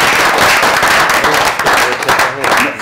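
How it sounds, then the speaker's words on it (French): A studio audience at a French television show applauds loudly and continuously for a few seconds, a dense wash of clapping filling the room. "On peut les applaudir."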